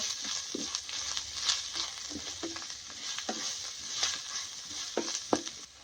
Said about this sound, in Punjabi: ਹੁਣ ਆਪਾਂ ਸਾਰੇ ਮਸਾਲੇ ਨੂੰ ਕਰ ਦਿੰਨੇ ਆ ਜੀ ਮਿਕਸ